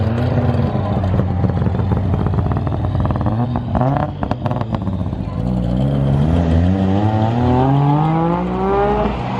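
A right-hand-drive Saab 900 rally car with its exhaust routed out the top revs hard up close, the engine note climbing and falling in repeated loud sweeps at an owners' convention.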